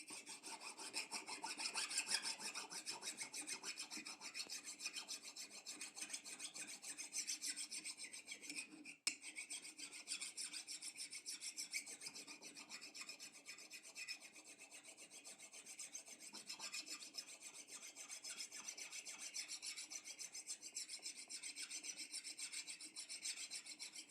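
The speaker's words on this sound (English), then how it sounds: "sharpening my axe" An axe is sharpened with a hand file outdoors: steady, quiet rasping strokes repeat in an even rhythm for the whole stretch, with one brief knock partway through.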